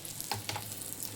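Chili peppers roast with a sprinkle of salt in a hot pan, giving a soft, steady sizzle with a couple of faint stirring scrapes, quiet and close with no voices.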